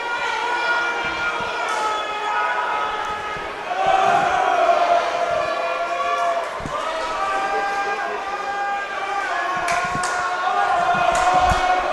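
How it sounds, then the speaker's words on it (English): A full house at a high school girls' basketball game, fans and two cheerleading squads cheering continuously with rising swells, a commentator talking over the crowd noise and occasional ball bounces or thuds. "We have Valdez cheering as well as the Rams."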